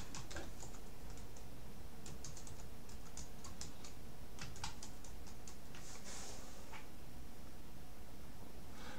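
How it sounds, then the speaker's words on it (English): Typing on a computer keyboard, a run of quiet irregular key clicks in quick bursts over a steady background hiss, faint and close. "I've got to type the Bullwinkle Show."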